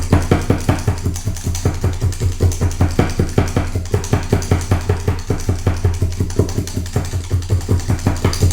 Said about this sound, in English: Then I'm going to take my 7 needle multi-tool, which is locked. Now it's not. And stab it into place.